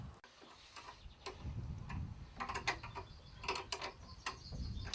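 Nuts being tightened on a threaded rod while fitting an insulated hinge body for external wall insulation, giving quiet metallic clicks and ratcheting ticks in an irregular series, close and faint.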